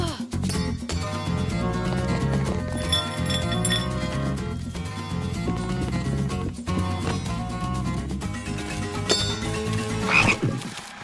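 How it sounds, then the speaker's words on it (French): Cartoon toads croak in a rhythmic, musical chorus over a bouncy animated score, with glassy clinks scattered through the steady layered croaks. "Ce sont des crapauds gloutons."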